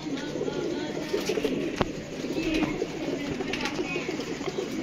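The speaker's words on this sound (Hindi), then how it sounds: "ये देखें जी ये कबूतर है।" A pigeon coos softly and repeatedly nearby, low murmuring calls mixed with background noise and a sharp click.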